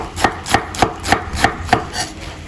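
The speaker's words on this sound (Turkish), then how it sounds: "Şöyle güzelce doğrayalım." A knife chops cabbage in steady, crisp strokes, about seven evenly spaced cuts against a board, close and clear with no talking.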